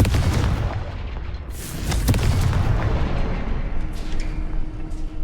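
A fiery blasting spell bursts in a fantasy video game, Hogwarts Legacy: a loud, deep boom with rumbling low-end energy sustained over several seconds, punctuated by sharp cracks, with no talking.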